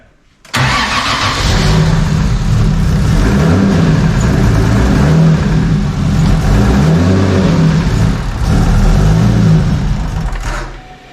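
A car engine starts and revs steadily at close range, loud and continuous, with the pitch rising and falling before cutting off.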